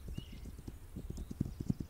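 A horse's hooves clip-clop in a survival video game, a quick, steady rhythm of muffled thuds at moderate loudness, with no voices over them.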